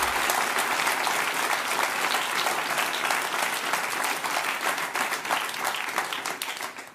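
Sustained, dense applause from a large television studio audience fills the whole stretch, steady and loud throughout before tapering slightly at the end.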